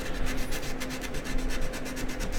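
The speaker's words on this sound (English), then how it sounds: "I'm just sanding on a live stream" Hand sanding during a build of a glass construct, a steady rapid back-and-forth rasping at close range, fairly loud and continuous with no speech.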